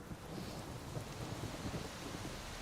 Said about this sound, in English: bit of rain here